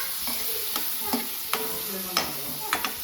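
Tomatoes and onion fry in a pan with a continuous close sizzle, while a spoon stirs and scrapes several times with sharp knocks against the pan. No voices are heard.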